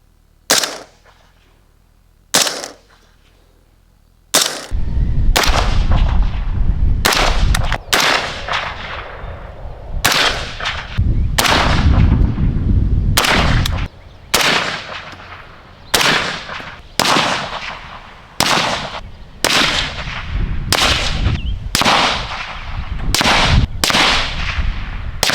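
Rifle shots fired through a Griffin Armament HRT 556 3D-printed suppressor, about twenty sharp cracks, a couple of isolated shots at first, then a rapid string of closely spaced reports echoing outdoors, loud and near.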